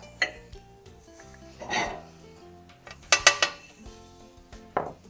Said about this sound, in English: let me put this on a plate.